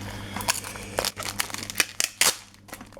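Plastic packaging and tape on a Pokémon card tripack crinkle, crackle and tear in sharp irregular bursts close to the microphone, with a low hum underneath and no speech.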